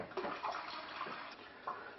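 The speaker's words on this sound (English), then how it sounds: "I'll just put some cold water in." Cold tap water runs into a bowl for bread dough, a soft, steady stream with a few brief splashy surges, fairly quiet and without speech.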